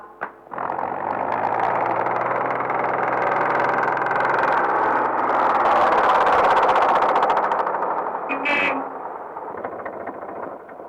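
A vehicle engine runs loudly and steadily for several seconds, swelling slightly midway before cutting off, followed by a brief clatter.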